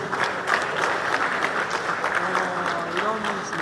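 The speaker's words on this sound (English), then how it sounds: "A round of applause for you, please." Steady applause from a conference audience honoring an award recipient, continuous clapping with a voice talking over it.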